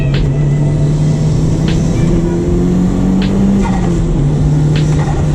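A Mitsubishi Lancer Evolution 5 GSR (CP9A) on semi-slick tyres accelerating on a quick pass, with a steady loud engine drone that rises slightly in pitch as it pulls, heard close from inside the car.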